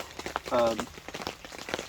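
Heavy rain beats on a large tipi tent at a mountain campsite, a steady close patter across the canvas throughout, with a brief louder burst in the middle.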